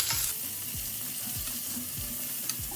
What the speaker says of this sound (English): So I'm going to add the onions and fry those up.